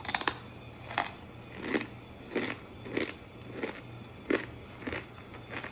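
Crispy fried danggit fish being bitten and chewed up close, a series of sharp crunches about once a second, each followed by softer munching, with a low steady hum behind and no talking.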